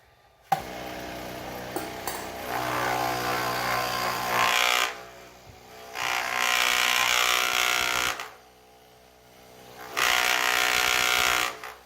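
An antique Maka mortiser cuts a 1/4 by 1 inch mortise with a loud, buzzing mechanical drone in three sustained bursts separated by short pauses, preceded by a sharp click at startup.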